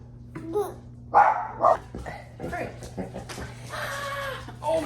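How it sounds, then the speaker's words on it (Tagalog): A dog barks a few times, sharp and fairly close, amid background chatter and voices. "Kaya pala tumatahol yung aso."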